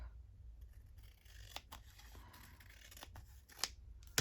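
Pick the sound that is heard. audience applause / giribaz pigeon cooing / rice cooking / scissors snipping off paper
scissors snipping off paper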